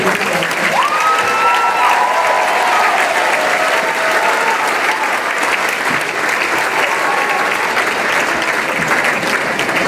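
Sustained, loud crowd applause fills a high school graduation ceremony, a continuous wash of clapping with faint cheers and voices mixed in throughout.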